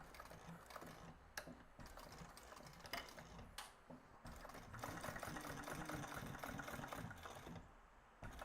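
A sewing machine stitches a beach bag in quick bursts of rapid needle chatter, separated by short pauses and clicks as the fabric is moved. The sound is quiet and close, with a longer continuous run toward the end.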